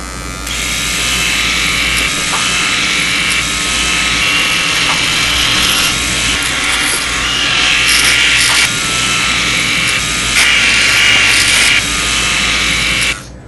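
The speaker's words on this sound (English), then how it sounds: "Man, Cody, I've never trimmed my nose hairs before." Comedic nose hair trimming effect in a wrestling show review: a steady, loud electric buzzing like a small trimmer or shaver runs continuously for about thirteen seconds, with brief rubbing and scraping accents and no talk.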